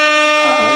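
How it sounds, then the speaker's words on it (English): A blast of an air horn sound effect on a sports radio show, one short loud brassy tone alone for under a second with a slight pitch wobble at the end. "Can we get some air horns?"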